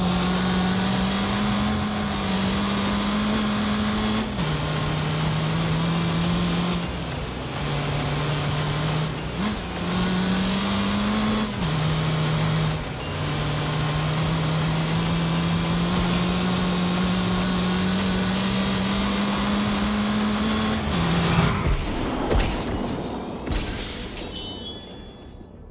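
Race car engines in The Grand Tour video game, including a little Citroen, hold a steady droning note that shifts pitch with each gear change, then end in a burst of crashing noise near the end.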